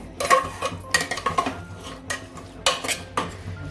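A spoon scrapes and clinks against a metal pot while lima beans are stirred through masala for spicy rice, with repeated close, sharp clatters and gentle stirring between them.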